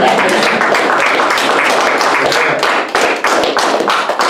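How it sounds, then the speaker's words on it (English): Congregation clapping hands at a church sermon on giving, loud, rapid and sustained rhythmic claps heard close throughout. "that's a hand clap right here."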